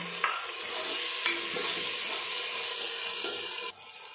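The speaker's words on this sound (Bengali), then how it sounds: "হাফ মশলা কাঁচা দিয়েছি আর হাফ মশলা ভেজে দিব" Ginger, cumin and garlic paste frying in a handi pot for duck meat kosha, making a steady dense sizzle and hiss with a few soft stirring knocks, ending in a sudden drop.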